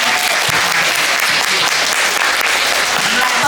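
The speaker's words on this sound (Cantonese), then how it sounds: "我哋俾啲掌聲，多謝我哋嘅勞苦功高嘅校長老師" Audience at a kindergarten graduation ceremony claps in dense, steady applause from many hands, loud and close throughout.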